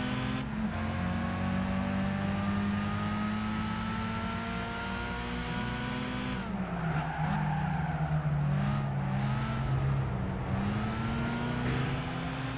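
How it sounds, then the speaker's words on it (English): Race car engines in Gran Turismo 5 drone and rev during a compact car race on a ring circuit, several cars close together with pitch rising and falling through gear changes, plus a brief tire squeal midway, with no talk. "passed those two cars pretty well."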